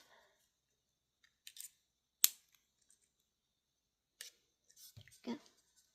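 Sharp snips of wire cutters through craft wire while making a wire spiderweb pendant, one loud crisp cut standing out among a few softer clicks and brief handling noises in a quiet room.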